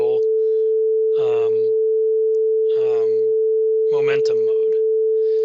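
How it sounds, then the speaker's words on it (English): A pure single-frequency sine tone from a quantum physics lecture demonstration holds perfectly steady and loud throughout, while a voice talks over it in short bursts. "here's a pure wave. Just a single sine wave"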